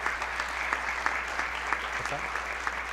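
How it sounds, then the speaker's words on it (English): An audience claps steadily through a school board meeting, a dense, continuous patter of many hands at moderate loudness with a faint hum beneath. "let's give them a round of applause"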